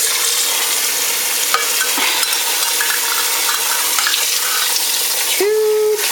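Water runs steadily and loudly into a pan while apple and peach filling cooks for a frosted cream pie. The rush is constant, broken by a few soft knocks and a brief change near the end.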